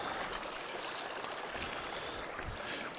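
A mountain stream rushes steadily at a river crossing on the Benton MacKaye Trail, a close, continuous broadband wash of flowing water with occasional low splashes and no talking.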